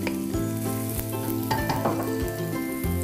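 Chopped onion dropped into hot oil in a tall pot over the flame, a steady close sizzle and crackle of frying with faint stirring, no talking.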